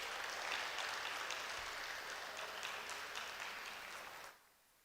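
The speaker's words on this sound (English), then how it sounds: "Let's hear a round of applause for them." An audience at a bar association dialogue event applauds panelists, a steady wash of clapping for about four seconds that cuts off abruptly, leaving near silence.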